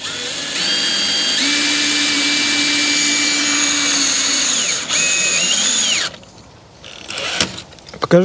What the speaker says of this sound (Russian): Закручиваем вот такие вот саморезы.